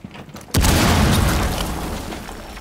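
A breach charge detonates in Rainbow Six Siege during a Terrorist Hunt round: a loud, sudden boom after half a second of near quiet, followed by a long rumbling roar that slowly fades.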